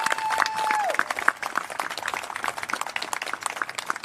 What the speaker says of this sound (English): So big old round of applause and thank you.